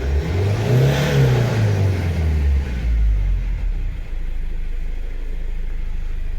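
Cummins 2.8 diesel in a 2020 Foton Combi revving up hard toward about 3800 rpm, then released; loud, close rising roar that settles into a steady idle rumble, with no talk.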